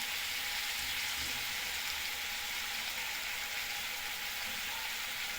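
Onions or spices sautéing with a little salt for Tamil tamarind curry, a steady, moderately loud broadband sizzle that holds evenly throughout with no voices.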